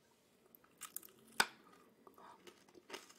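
Teeth bite and crunch into a massive lollipop, close to the mic, with one sharp loud crack followed by softer scattered crunches and mouth sounds.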